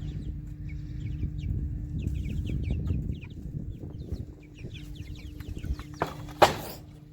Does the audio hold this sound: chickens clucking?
yes